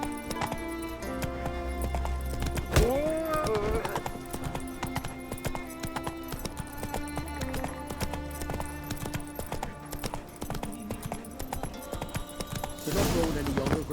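Roach, a horse in the game The Witcher 3: Wild Hunt, clip-clops along in steady hoofbeats with a brief whinny partway through, all over a constant bed of game music.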